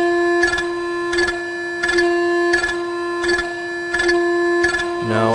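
A Yaskawa Sigma 5 servo motor oscillating during auto tuning makes a loud, steady tonal hum. Regular buzzing pulses repeat about every 0.7 seconds, and a shifting whine comes at the very end.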